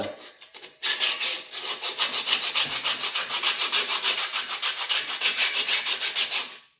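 Rhythmic sanding scrapes back and forth across a rough cast iron pot, knocking off heavy loose residue in quick, even strokes, close and alone after a brief start.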